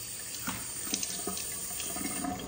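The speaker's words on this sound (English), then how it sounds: "I give it a nice clean rinse." Tap water runs into a sink during a rinse, a soft, steady splashing flow with a few brief splashes and clinks, fairly quiet and close, with no talk.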